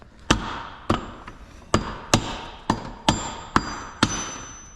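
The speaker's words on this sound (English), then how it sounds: "There it is, you hear the ting." Axle being seated into a Nissan 350Z/370Z Nismo GT Pro differential during a rebuild, heard as eight sharp metallic strikes with ringing decay, evenly spaced about half a second apart, close and loud.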